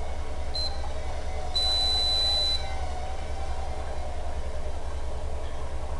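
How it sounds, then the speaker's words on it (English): A timer goes off in a hobby setting beside a quadcopter, giving a short thin beep and then a longer steady tone over a constant low hum and hiss. "the timer's going off"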